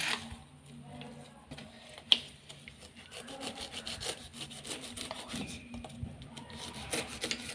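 A pineapple being cut with a knife, quiet rasping scrapes and rubbing strokes in an uneven rhythm, close by, with one sharp tap partway through.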